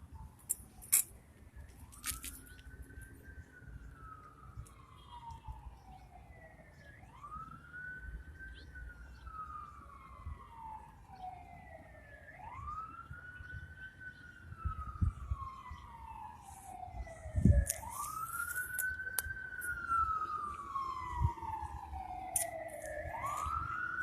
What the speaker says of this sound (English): I hear the ambulance headed to an emergency.